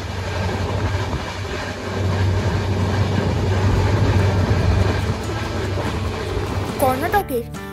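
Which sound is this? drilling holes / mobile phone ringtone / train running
train running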